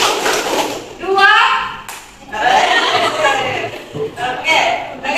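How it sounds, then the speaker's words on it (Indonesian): A primary school class claps in counted rhythm during an Islamic studies lesson, with a few sharp hand claps set between loud children's chanting and a teacher's voice. "Tepuk tangan 2, 1 kali, 3 kali"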